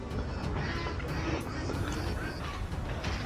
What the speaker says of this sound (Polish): Tu kurki, kaczki mają.